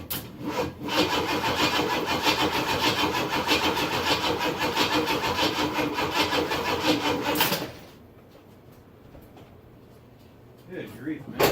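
A 1970 Oldsmobile Ninety-Eight engine starts after sitting for six months, a loud, rough, sustained roar for about seven seconds before abruptly dropping to a much quieter background, with a few faint clatters near the end.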